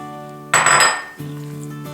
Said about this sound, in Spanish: Mezclamos bien. No es necesario batir, simplemente mezclar.